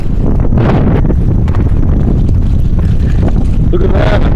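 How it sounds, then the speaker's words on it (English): Strong gusty wind during a windstorm in Cleveland, Ohio, roaring loudly and steadily across a broad band with buffeting on the microphone, a door banging about in the gusts and a voice talking briefly. "Look how windy it's getting."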